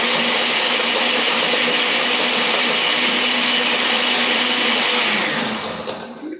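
A blender running on its smoothie extract setting churns a smoothie with a loud, steady whir that holds for several seconds, then tapers off near the end as the motor slows.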